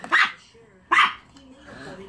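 A chihuahua gives two sharp, high yaps about a second apart, close by, with soft talk and a faint whine between them.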